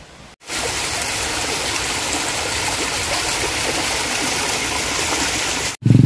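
A river rushes past a villa and glamping site in Sumedang, a steady, dense watery roar that holds evenly from start to end with no voices.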